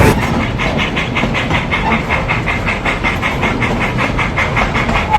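Puffing Billy, an Australian heritage steam train, chuffs in a fast, even rhythm with continuous hissing steam and rail clatter, loud and close throughout with no voices.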